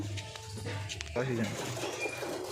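A male pigeon gives a few soft, rolling coos close by, with a person talking over part of it.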